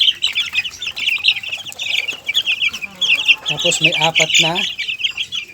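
Peruvian and Black Australorp hens clucking and cackling close by, a busy overlapping chorus of bird calls with someone speaking briefly over them.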